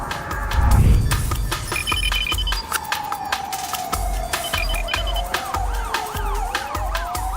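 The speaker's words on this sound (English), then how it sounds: "If you've been hearing police sirens in your neighborhood" Police car sirens wail loudly through a busy city street, a rising and falling tone sweeping over steady traffic rumble, with a brief burst of louder noise near the start and overlapping electronic siren tones throughout.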